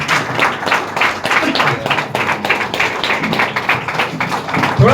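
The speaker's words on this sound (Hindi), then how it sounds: "एक बार जोरदार खड़े होकर ताली बजा दीजिए" Audience at a direct-selling marketing plan show clapping loudly in a dense, continuous round of applause, with a few voices faintly underneath.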